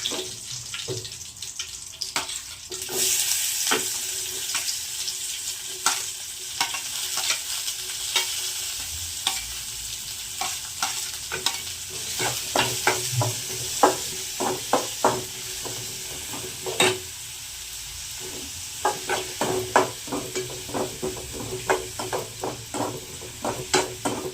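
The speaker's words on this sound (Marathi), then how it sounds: "फोडणी द्यायची फक्त." A tempering of spices sizzles in hot oil in a home kitchen while moth bean curry is cooked, with steady frying hiss and frequent sharp stirring and clinking sounds throughout.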